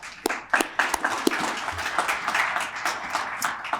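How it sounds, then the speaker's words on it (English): A business event audience gives a round of applause, scattered individual claps rising into steady, moderately loud clapping throughout. "So let's give them a round of applause"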